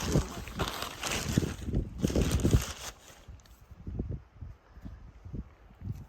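Wind gusting across a garlic garden, a steady broadband rush that is strongest in the first three seconds, then eases to a softer, intermittent blowing near the microphone.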